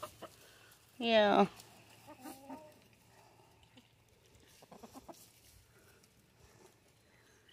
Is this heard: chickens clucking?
yes